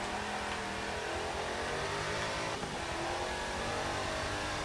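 A race car engine in Forza Motorsport 7, a roughly 1000-horsepower custom build, roars steadily and loudly as it accelerates at high revs, with no talking.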